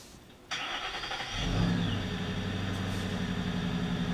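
A Ford Mustang Boss race car with an aluminum 444-horsepower engine fires up after a sharp click, then settles into a steady, throaty mid-pitched rumble with a slight rise in revs, close and loud with no talk.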